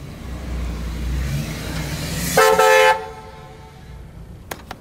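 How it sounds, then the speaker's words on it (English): The Rhino Rush truck blasts a loud, sustained horn toot for about half a second after a low engine rumble rolls past, followed by fading road noise and a couple of sharp clicks. "That's the Rhino Rush truck."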